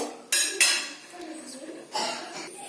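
A metal lid clanks onto a cooking pot of potato and ridge gourd palya over a medium flame, with a few sharp clinks spread out and a faint voice in between.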